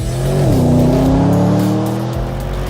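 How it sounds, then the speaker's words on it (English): Porsche Panamera Turbo S braking hard into a chicane on Porsche's racetrack in Leipzig, a loud engine note dropping in pitch as it downshifts, then steadying into a sustained close drone. "I'm sitting in the brand new Porsche Panamera Turbo S, braking into the first chicane on the start-finish straight"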